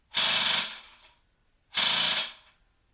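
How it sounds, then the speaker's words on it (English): Two separate whirring bursts from a toy G36 minigun blaster, each about a second long, sharp at the start and tapering off, separated by a short silence. "that is the sound of a G36 minigun"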